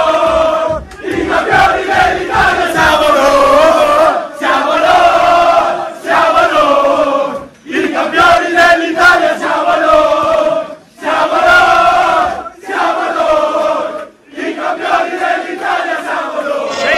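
Napoli fans celebrating a league title win on the pitch after a Udinese–Napoli match: a loud crowd chanting and cheering in sustained sung waves, with brief dips between phrases.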